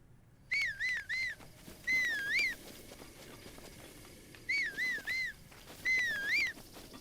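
Link's melodic whistle in The Legend of Zelda: Breath of the Wild, four short rising-falling phrases in two pairs with gaps between, clear and fairly loud over faint game ambience.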